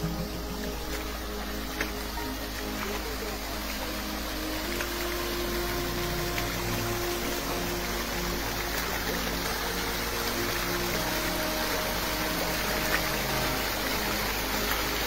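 A borewell overflows under high pressure with a continuous rushing gush of water and a low pump-like hum, steady and close throughout, with no talking.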